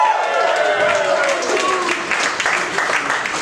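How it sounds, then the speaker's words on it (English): Audience applause for comedian Duke Duquette at a stand-up show in the Moxy Hotel: dense, steady clapping from a crowd filling the room, sustained at an even level throughout with some voices mixed in. "Give a big round of applause to my buddy, Duquette, everybody"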